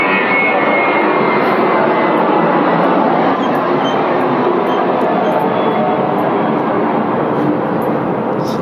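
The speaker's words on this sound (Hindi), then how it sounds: "अच्छा जहाज़ की आवाज़ से स्टूडेंट्स को पता चलता है कि हम लोग एयरपोर्ट के कहीं पास हैं" An airplane passes overhead near an airport with a loud, continuous engine roar that stays steady across the whole stretch.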